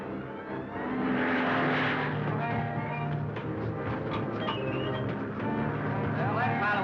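A propeller airplane drones in flight in a 1941 film scene, a steady engine hum that sits under voices talking throughout.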